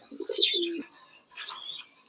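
Pigeons coo at a racing-pigeon farm in soft, rounded calls, one burst then a pause and another, moderately close with faint chirps mixed in.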